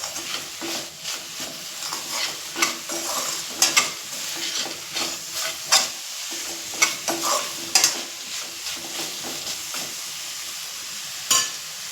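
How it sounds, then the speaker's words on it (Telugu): Dried coconut stirred into a masala frying in a pan for paya curry, giving a steady close sizzle with repeated scraping and stirring clicks, no talk. "ఈ ఎండు కొబ్బరి కూడా వేసి ఒకసారి మిక్స్ చేసేద్దాం."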